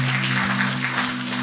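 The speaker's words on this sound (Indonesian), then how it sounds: "Tepuk tangan buat Tuhan kita." Church congregation applause, a dense wash of clapping over a steady low hum from the sound system, brief and continuous.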